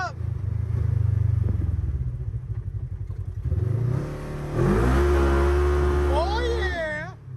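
Dynojet dyno run of a motorcycle with a Power Vision 3 fitted: a loud engine drones at steady revs, drops, then climbs hard through a rising rev sweep with the rear tire spinning, and voices talk over it near the end.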